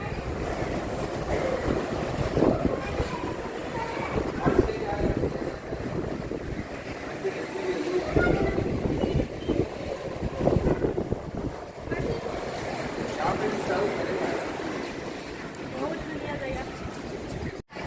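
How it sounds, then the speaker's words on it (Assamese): Sea waves wash onto the shore at a beach resort near Chennai, a steady broadband surge rising and falling throughout, mixed with heavy wind buffeting against the microphone. "সাগৰ উপভোগ কৰক চাওক"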